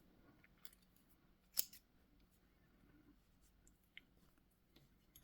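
Scissors snip through yarn while making a left-handed crochet scarf, one crisp close cut standing out against a quiet room, with a few fainter clicks and rustles around it.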